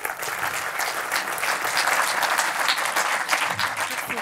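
An audience applauds the speakers at a conference on finance and performance, with steady, dense clapping that keeps going throughout.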